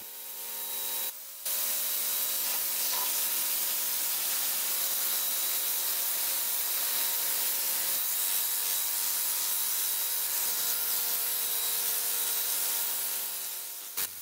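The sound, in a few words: Black & Decker pressure washer cleaning outdoor surfaces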